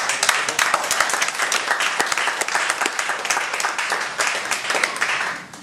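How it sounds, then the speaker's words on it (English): An audience at a WordCamp meetup applauds the event organizers, brisk crowded clapping sustained evenly before fading out at the end. "I'll give a round of applause to them"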